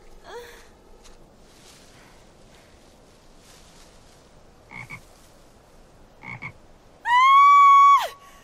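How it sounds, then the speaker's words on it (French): A frog croaks a few times in a quiet indoor scene: two brief, separate calls partway through, then one loud, drawn-out, close croak near the end. "Je ne peux pas toucher aux grenouilles, ça me dégoûte."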